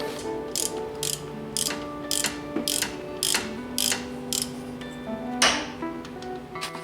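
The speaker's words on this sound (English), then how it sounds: "So just get my flex head wrench in there. Probably need an extension, and then we should be able to pop those out real fast." A flex head wrench on an extension ratchets out 17 mm bolts from a 1996 Ford Explorer during power steering pump replacement: repeated bursts of rapid, close metallic clicking, each run separated by short pauses.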